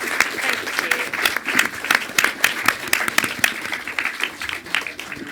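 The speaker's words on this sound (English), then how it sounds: "Please give a massive round of applause to Kwame, Dion and Pete." Audience applause at a film workshop, a dense steady round of clapping from a room of people, fairly close and continuous.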